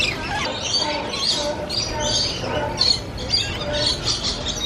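Birds chirp and squawk constantly in a busy, close chorus at an aquarium in Long Beach, with shrill calls overlapping one another and no break.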